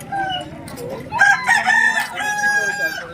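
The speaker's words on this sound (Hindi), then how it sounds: "लाल मुर्गा है दोस्तों देख सकते हैं।" A red rooster with a long tail crows loudly and close at a village livestock market, in one drawn-out call with faint background voices under it.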